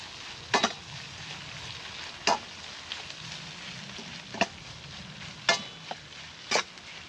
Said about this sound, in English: we're going to fry the spring onions until it goes a nice charred kind of smoky flavour